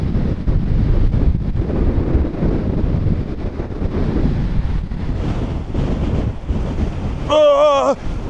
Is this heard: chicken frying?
no